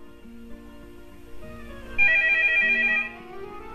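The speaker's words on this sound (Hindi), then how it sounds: "टेलीफोन मैं सुन लूं" A telephone rings in a comedy stage play, a steady electronic warble that starts partway through and repeats for about a second over quiet room tone and faint background music, with no talking.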